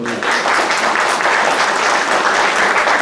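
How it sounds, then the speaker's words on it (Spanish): An audience at a talk on healthy and active ageing applauds, a dense, steady burst of clapping that holds evenly for the whole stretch without speech. "Le damos un aplauso."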